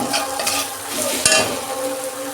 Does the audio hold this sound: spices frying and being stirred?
yes